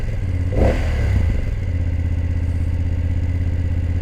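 A BMW F 900 GS motorcycle with an Akrapovic exhaust blips with a quick, loud rev, then drops to a steady, throbbing idle with a low, even exhaust burble, close by.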